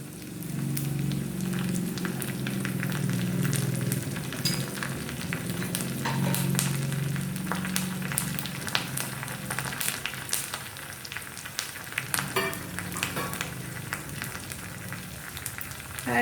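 Red chilli and curry leaves sizzle in hot oil for a Kerala erissery of raw banana and green gram, a continuous close frying crackle with scattered pops and spatters, heard alone without talk.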